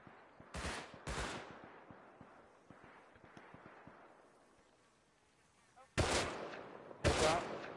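Gunfire in the video game Rust: a few scattered sharp shots amid quiet ambience, then two loud, close bursts of rapid fire near the end.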